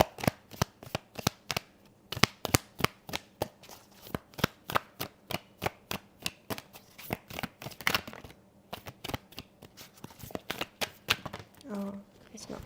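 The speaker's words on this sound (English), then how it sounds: "Sometimes when I get impatient when I'm shuffling, it's not happening soon enough." Tarot cards are shuffled by hand in quick, uneven bursts of crisp riffles and slaps that run for over twelve seconds, loud and close.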